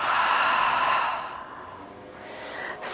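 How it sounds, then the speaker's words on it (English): A single breath pushed out through the mouth during a yoga flow, a soft airy rush that starts loud and fades over a couple of seconds, close and alone. "Exhale through the mouth."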